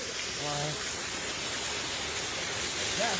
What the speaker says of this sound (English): Come over here and look at the waterfall.